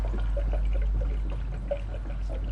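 Coolant dribbling from the radiator petcock of a Lexus GS300 during a radiator install, a steady trickle and pour of liquid close by over a low hum, with no talk.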